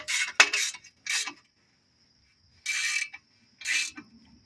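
Bolts being tightened on a wheel hub bearing of a 2001 Ford Sport Trac: several bursts of metallic ratcheting wrench clicks, close and fairly loud, separated by pauses.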